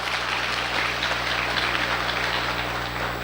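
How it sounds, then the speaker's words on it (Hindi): Sustained audience applause at a sales achievers' award speech, a steady dense wash of clapping filling the room without pause. "एगेन तारीफ, एगेन हम चाहेंगे जोरदार ताली"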